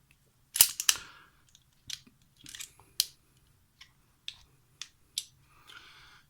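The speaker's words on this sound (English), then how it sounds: "First thing we're going to do is we're going to clear this Ruger LCP." A Ruger LCP .380 pocket pistol being cleared makes a series of sharp metallic clicks and clacks, close and crisp, spaced irregularly against quiet, with no talking.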